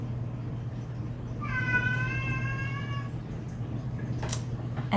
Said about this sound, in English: I have a cat that won't stop screaming